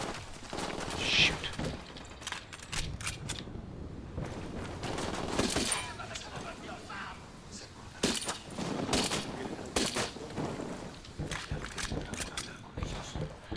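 Scattered pistol and rifle gunfire in a Ghost Recon Wildlands firefight, irregular sharp shots and short bursts at moderate distance, some clustered, with game sounds and faint voices between them.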